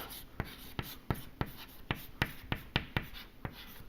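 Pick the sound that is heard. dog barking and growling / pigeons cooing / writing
writing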